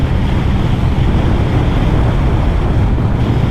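Heavy crosswind buffets a Honda VFR1200F DCT motorcycle rider on a road near Sydney, a loud, constant roaring rush of wind noise that fills the whole stretch without letup.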